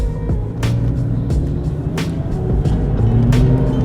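A Porsche 996 911 Turbo accelerates, its engine a steady loud drone heard from inside the car, with a few sharp transient clicks or thumps over the continuous rumble.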